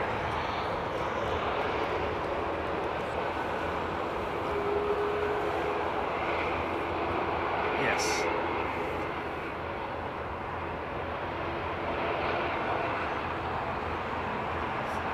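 A jet airliner lands on runway 27R with engine reverse thrust, a broad roar that swells slightly and holds steady for a long stretch, loud and unbroken, with no talk.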